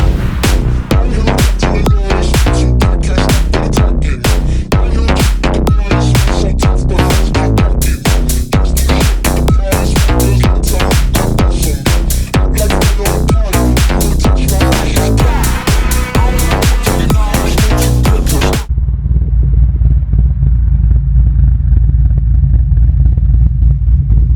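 A Holden GEN-F Senator Signature making 350 rwkW runs loud and close, with a dense, rough, clattering engine roar for about eighteen seconds. It then drops to a much quieter low rumble.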